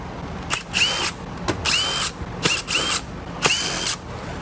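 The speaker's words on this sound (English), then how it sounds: "looks like we do have a few screws to remove. We'll start with these first." A power drill backs screws out of the housing of a Kenmore Crossover Max vacuum in five short whirring bursts, each about half a second long and separated by brief pauses. The bursts are close and fairly loud with no speech.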